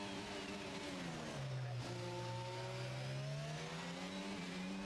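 Ferrari racing car in an F1 game pulling out of the pit lane, its high engine note rising and falling steadily as it accelerates, heard close and continuous with no talk.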